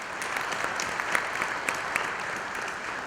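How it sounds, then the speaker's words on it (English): Audience applause for a panel speaker at an innovation discussion, a steady, moderately distant patter of many hands clapping, fairly soft and even throughout. "Please give a round of applause."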